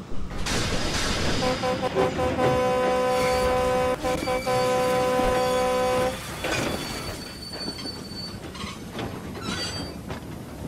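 Barry, a steam locomotive, pulls away with a loud, sustained whistle over rumbling running gear, then the tone stops and the train clatters and rattles onward steadily.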